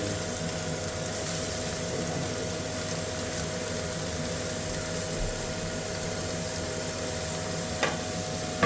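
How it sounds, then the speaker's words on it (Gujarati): Green chili and onions sizzling in a pan while cooking handvo, a steady frying hiss with faint stirring, close and continuous with no talking. "ચાલો ગ્રીન ચીલી નખાઈ ગઈ એમાં વાટેલી હવે ઓનિયન નખાય"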